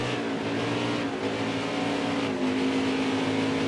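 A race car engine in the NASCAR Heat 4 video game drones at high revs, a steady buzzing roar that dips briefly as the throttle eases and then climbs again, loud and close with no voices.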